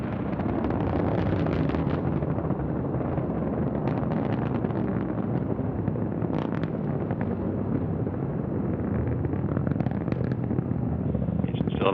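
Antares rocket lifting off with over 8,000 pounds of cargo for the International Space Station, first stage engines at full thrust, a steady broad roar and rumble that holds for the whole stretch with wind-like buffeting.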